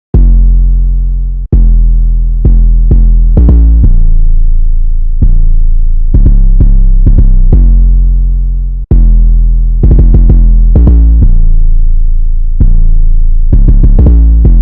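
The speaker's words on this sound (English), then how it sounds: "let me just show you what the 808 sound like." Deep, booming 808 bass notes made in FL Studio play alone in a syncopated pattern, each hit sustaining and slowly fading, loud and close.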